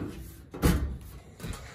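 A garage storage drawer slides open with a single solid thump and rattle, followed by a softer bump, close and moderately loud with no talking.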